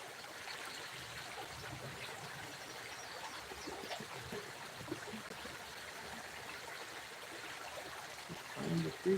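A creek flows steadily with a continuous soft rushing and trickling wash, holding an even level throughout, with a brief louder splash or handling noise at the very end.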